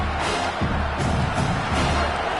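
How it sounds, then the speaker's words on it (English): A football stadium crowd roars on a third down, a loud, dense and sustained wall of cheering that swells in waves with no clear breaks. "Decibels rising as the crowd gets behind this defense on 3rd down"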